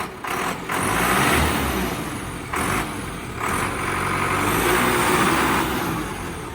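A Sonalika 65hp CRDI turbo tractor engine revs loudly and close, rising and holding in long surges with brief dips between, its turbo whine running over a rough diesel rumble, no talking.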